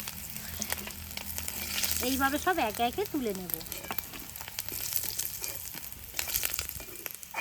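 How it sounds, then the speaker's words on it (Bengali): Kuche fish (eel) pieces frying crisp in hot oil make a continuous near crackling sizzle, with a short stretch of talk over it early on. "এই দেখুন কত সুন্দর লালি করে ভেজে নিয়েছি এই রকম কিন্তু একটু কড়া করেই ভাজতে হবে"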